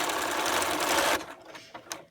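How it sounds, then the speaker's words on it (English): A sewing machine runs fast and steady as it backstitches a seam on a three-layer pleated cotton mask, then stops abruptly, leaving a couple of small clicks. "I'm going to backstitch a number of times just to make sure it holds really tight there."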